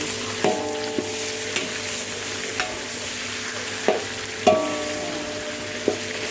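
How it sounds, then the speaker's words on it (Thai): A big batch of minced pork stir-fries in a pan with a continuous loud sizzle, broken by a spatula scraping and tapping the pan every second or so, close up and without speech. "เอาหมูบดลงไปผัดก่อนนะคะ"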